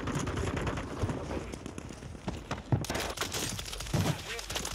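Rapid gunfire bursts from a RAAL LMG fitted with the JAK Protean conversion kit in Warzone, Modern Warfare III, sharp repeated cracks in uneven clusters beneath players talking over voice chat.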